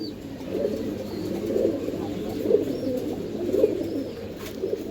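A pair of Giribaz Sapchila pigeons coos in a low, repeated rhythm, the soft calls rising every second or so over a steady background hum.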